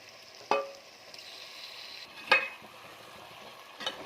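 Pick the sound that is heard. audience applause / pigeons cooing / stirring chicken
stirring chicken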